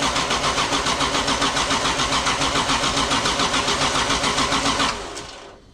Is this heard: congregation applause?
no